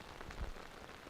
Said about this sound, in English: It's raining actively too.